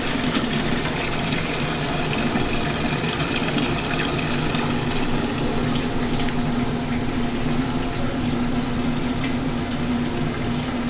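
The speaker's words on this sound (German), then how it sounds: "Dann das Wasser für Spaghetti." Water runs loudly and continuously into a pot for cooking spaghetti in a kitchen, a dense rushing flow with a steady low hum underneath and no speech.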